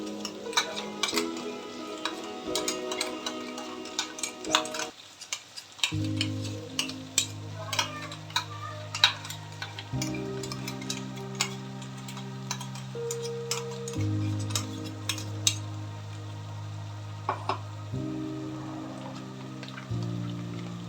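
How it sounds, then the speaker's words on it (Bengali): Ginger, garlic and chili paste being stirred in a pan over a high flame, with steady scraping ticks and a faint sizzle under it, accompanied by a low background hum. "তারপর হাই ফ্লেমে ভালোভাবে নাড়তে থাকুন"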